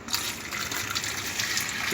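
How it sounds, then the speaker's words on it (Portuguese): Water gushes steadily from a tap to rinse a freshly etched copper circuit board, a brief, close, continuous splashing flow. "Então aí você neutraliza com água."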